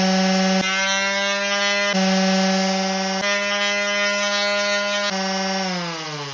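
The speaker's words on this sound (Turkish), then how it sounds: "makineyi çalıştırdığımda sesin ciddi oranda azaldığını duyabilirsiniz" A power sander runs continuously up close, giving a steady, droning electric whine with strong tonal hum that dips slightly near the end.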